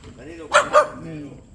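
Two quick loud dog barks ring out close by in a street setting, one right after the other, with a person talking around them.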